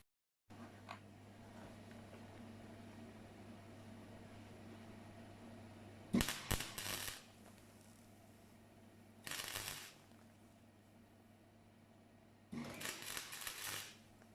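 Welding on a classic Mini car body panel: three separate loud crackling bursts, each lasting about a second, over a steady low hum with quiet gaps between.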